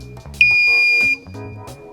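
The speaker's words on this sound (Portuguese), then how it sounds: "E vai soar o alarme." A high-level alarm on an ammonia refrigeration system controller sounds as a single loud, steady electronic tone lasting under a second, over faint background talk.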